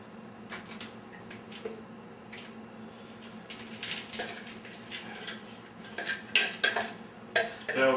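A knife and utensils clatter against dishes in a home kitchen during potato latke preparation, scattered clinks and scrapes growing busier and louder toward the end, with no talking.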